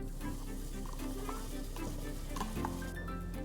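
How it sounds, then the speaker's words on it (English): Chili spice paste frying in hot oil in a stock pot, a steady close sizzle with light stirring scrapes, no talking. "The first thing that goes once the oil heats up is the chili paste or the spice paste."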